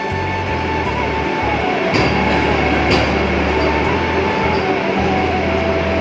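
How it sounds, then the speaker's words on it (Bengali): A Vande Bharat train departs the station at three o'clock, giving a steady loud rail rumble with low engine drone and some faint squeals throughout, with no voices. "ঠিক 3টের সময়তে গাড়ি ছেড়ে চলে যাচ্ছে।"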